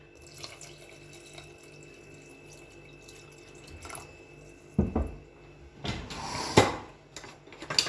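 Tap water runs steadily into a pot or sink while vegetable soup is made, with louder splashing and a few knocks toward the end, close and fairly quiet.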